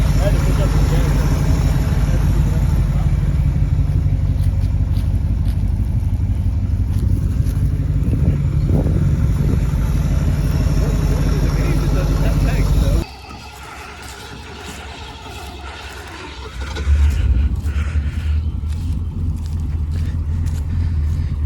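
Engine of a rare Ford GT muscle car running after starting, a loud steady low idle rumble that cuts off partway, then resumes; people talk over it.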